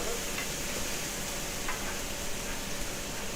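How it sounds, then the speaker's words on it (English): Onions fry and are stirred in a pan for a patty melt, a steady broadband sizzle with faint scraping ticks from the stirring, close and continuous. "onions are stirring up"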